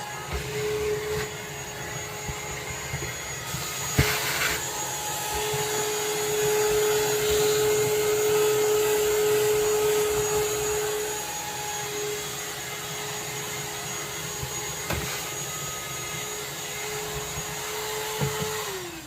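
A vacuum cleaner sucks up loose bits while a hat is being shaped, droning steadily and close with a constant motor whine that holds throughout and winds down at the end.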